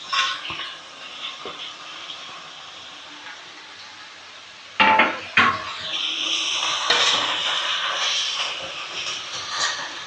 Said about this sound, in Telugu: టమాటాలు వేస్తున్నాను ఇప్పుడు.